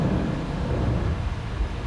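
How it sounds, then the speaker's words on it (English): Thunder effect piped over hidden loudspeakers on the Universal Studios studio tour: a loud, sustained, broad rumble with no talking. "There you hear the sound of the thunder being piped in the area over loudspeakers, all of which are carefully hidden."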